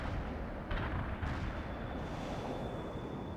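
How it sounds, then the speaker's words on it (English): Artillery shells striking in the video game World in Conflict, heard as a couple of heavy booming impacts followed by a rumbling, sustained roar of distant explosions. "Coordinates locked down. Shells on the way."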